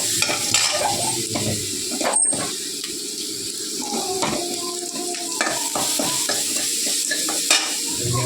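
A ground paste sizzles and is stirred in a hot pan while cooking rasam with tomatoes, with scraping and clinking of a spoon over a soft continuous fry, close and fairly quiet.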